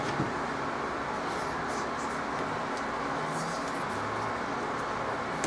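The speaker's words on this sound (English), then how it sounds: "I apologize for any fan sounds on me" A quiet, steady whoosh like an electric fan running nearby, an even airy hiss with no change throughout.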